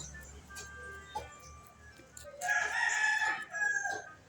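A chicken crows and clucks close by in a yard, a loud drawn-out crow in the second half after softer clucking and background noise.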